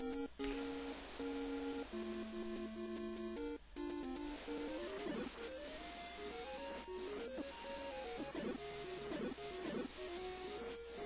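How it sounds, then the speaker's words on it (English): Chiptune-style 8-bit audio from The Legend of Zelda gameplay: warbling square-wave tones step and bend in quick melodic runs over a constant hissy noise bed, with a sharp click and dropout early on. "how about that 8-bit wave sound effect starting every time I use the sword?"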